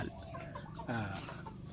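A home-raised Thai fighting rooster, bred from a small chick for cockfighting, gives a short run of low, throaty clucks, close by and moderately quiet, with no one talking.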